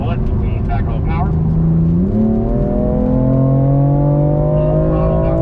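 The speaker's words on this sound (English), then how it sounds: "Full throttle down the street here" A BMW on a race track pulls hard at full throttle, the engine note climbing steadily in a loud, close, continuous rising drone, with a brief dip mid-pull before the revs keep building.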